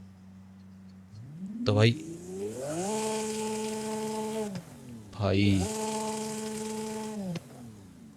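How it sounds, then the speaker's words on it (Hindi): A Lamborghini SVJ's engine in Forza Horizon 5 revs twice, each time climbing to a loud, steady high-pitched wail and then dropping back. Someone talks briefly over the start. "भाई मैं इस गाड़ी को करने वाला हूँ रेव"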